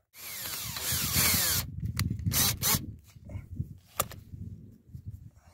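A power drill whirs loudly as it drives a screw through a bracket into wood, one long burst followed by shorter bursts, scraping and handling noises, and clicks.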